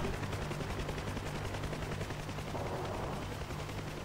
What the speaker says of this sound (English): There's a lot of gun rounds coming for us now, we're in big trouble.